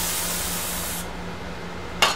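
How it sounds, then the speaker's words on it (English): Dykem layout-fluid remover is sprayed onto a rag in a machine shop, a loud continuous hiss lasting about a second before stopping, followed by a brief sharp knock. "How to get the dicom off, which I like spraying it on the rag"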